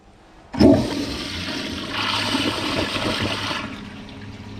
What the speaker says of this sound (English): That took it all in 1 flush.